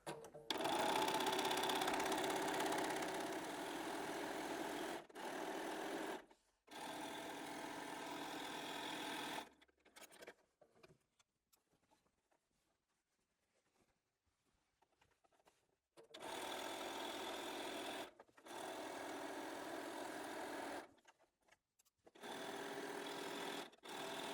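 A sewing machine stitches straight seams across a fabric drawstring bag, running in loud close bursts with short stops and one long quiet pause in the middle.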